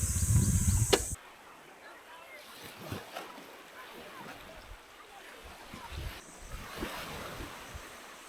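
Ocean surf at Nagtabon Beach in the Philippines washes in a steady, soft wash with wind buffeting the microphone, after a brief loud rumbling burst at the very start.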